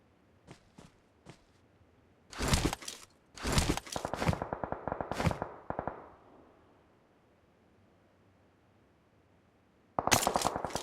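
PUBG gunfire arrives in a few single shots followed by two loud, rapid automatic bursts, then a pause before another burst begins. The shots sound close, with no talking.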